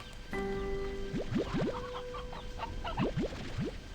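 A flock of hens in the video game Slime Rancher 2 clucking in quick rising bursts over a sustained game music tone, a few clustered calls close together, no voices.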